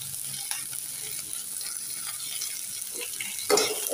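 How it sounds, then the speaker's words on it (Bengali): Green chilies and onions fry in a pan for shutki bhorta, giving a steady close sizzle that swells louder near the end as they are stirred. "কাঁচামরিচ, পেঁয়াজ ভেজে নিচ্ছি"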